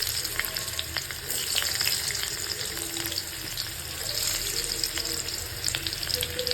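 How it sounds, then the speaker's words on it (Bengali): Chopped garlic sizzles in hot oil in a pan for a spicy tomato chutney, a steady, close, dense frying crackle that runs unbroken throughout with no one talking. "তো তেলটা এখানে গরম হয়েছে মোটামুটি। এবার আমি দিয়ে দিচ্ছি রসুন কুচি কুচি করে কেটে"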